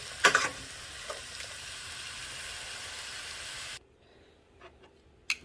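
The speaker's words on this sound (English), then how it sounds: "We're going to saute these veggies around." Vegetables sautéing in a pan for chicken noodle soup, a steady close sizzle with a few sharp stirring clatters, then the frying cuts off abruptly, leaving quiet with a couple of light knocks.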